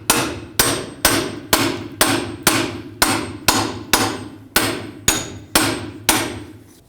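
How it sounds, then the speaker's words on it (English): A hammer taps a chisel to break free a lower tie rod on a 2008-2010 Ford F-250, giving about a dozen sharp metallic strikes at an even, steady rhythm, close up and with no talking. "I'll give it a couple taps with the hammer around just to hopefully break it free before I do that."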